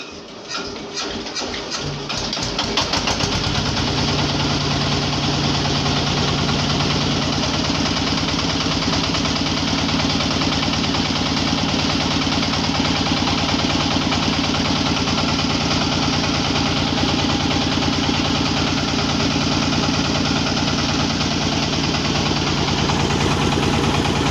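A hand-cranked motor tractor engine cranks with rapid chugging pulses, then catches and settles into a steady, loud, rumbling idle that runs on without pause.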